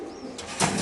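Racer pigeons in a cage give a brief, soft cooing, close by and low, with faint rustling around it.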